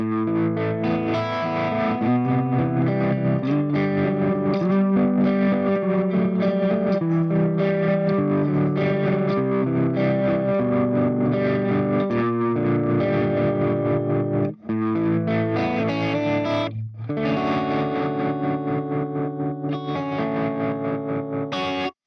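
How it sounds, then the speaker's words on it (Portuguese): An electric guitar runs through an Orange amp plugin with tremolo switched on, giving a loud, driven, sustained chordal passage with a pulsing swell and two brief gaps near the end. "Ligando um trêmulo logo em seguida."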